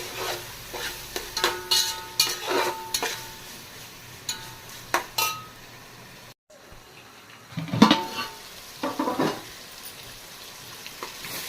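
Tomatoes frying with ginger garlic paste in a pan while being stirred, scraping and clinking strokes over a soft sizzle, close and fairly loud, with a brief pause midway.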